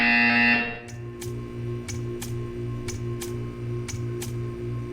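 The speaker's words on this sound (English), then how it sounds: "You will hear a buzzer." Repeating buzzer from the art-appreciation test chamber in Portal 2, a steady low pulsing tone with regular beats over a humming background, following a brief louder tone at the start.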